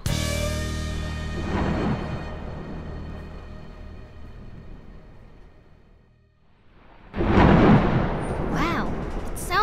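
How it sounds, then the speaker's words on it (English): Deep rolling rumbles of thunder swell, fade to near silence, then return with a sudden loud crack and heavy rumbling. "Sounds like a storm is coming."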